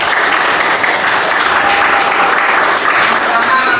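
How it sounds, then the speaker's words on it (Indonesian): Applause from a classroom of students, a dense, steady wash of clapping that fills the whole stretch at close range, with faint voices mixed in. "Tepuk tangan buat"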